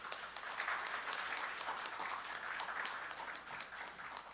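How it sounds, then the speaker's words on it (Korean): An audience at a university gathering applauds steadily for a former industry-academia cooperation head and current vice president, a dense, even wash of clapping that holds at a moderate distance throughout with no break. "박수 한번 좀 부탁드리겠습니다."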